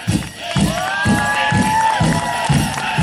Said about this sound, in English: On three, let's cheer on these dancers.